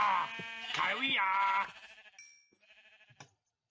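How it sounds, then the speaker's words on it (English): Sheep in the video game Minecraft let out a couple of clear, wavering bleats close by, followed by quieter game sounds as the bleating fades out. "Sheep. Another sheep. Three sheep."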